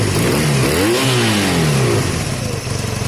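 A Honda CB250 cafe racer motorcycle engine, its carburettor air-fuel screw just adjusted, runs loud and close, revving up and easing back in a rising then falling sweep before settling into a steady idle.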